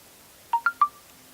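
Three quick electronic beeps from a mobile phone, close and clear, rising slightly in pitch against a quiet background.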